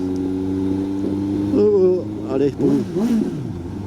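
A Suzuki GSX-S750 motorcycle engine idles with a steady hum, then the rider blips the throttle in several quick revs that rise and fall, while someone speaks briefly over it.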